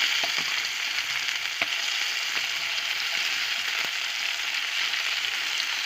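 Steady, dense sizzling of Baltic herring frying in a hot pan, a constant crackling hiss with occasional sharper pops, close and fairly loud throughout.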